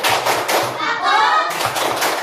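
Schoolchildren clapping the Indonesian 'tepuk anak soleh' chant in a classroom, rhythmic groups of hand claps and thumps mixed with children's chanting voices, close and lively.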